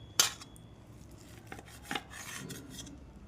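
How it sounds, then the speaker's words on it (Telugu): A knife cuts through a boiled egg omelette on a plate, giving a sharp clink near the start, then a few soft scraping and rubbing strokes. The sounds are close and fairly quiet, with no talking. "మంచిగా కట్ చేసుకుందాం, చాకుతో కట్ చేసి ఎలా వచ్చిందో చూద్దాం"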